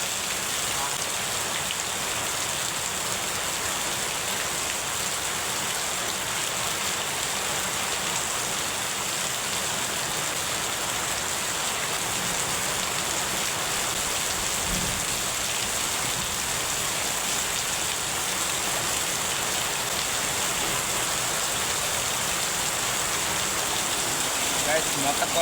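Steady rain pours down in a continuous dense hiss, unbroken and even throughout, close and fairly loud with no voices.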